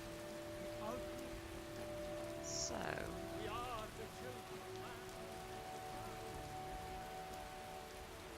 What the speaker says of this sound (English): it seems like we've been out in the rain since we started this